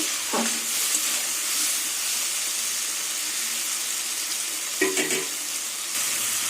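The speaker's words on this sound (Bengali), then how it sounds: "জলটা দিয়ে কিছুক্ষণ আবার কষিয়ে নেব" Chili powder and spices frying with a splash of water in a pan, a steady hiss of sizzling with two brief scraping stirs, close and fairly loud, no voices.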